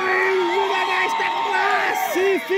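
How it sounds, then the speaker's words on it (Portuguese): A large crowd at a beach football semifinal cheers and whoops loudly, with shouts rising above the roar and an excited voice commentating over it. "E a torcida ali, ó, vibrando"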